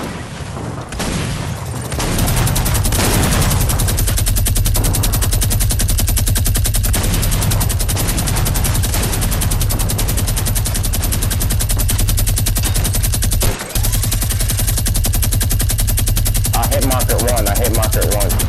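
A minigun fires in the video game Fortnite, a loud, continuous rapid stream of rounds that runs almost unbroken for about sixteen seconds, with explosions and brief voices mixed underneath.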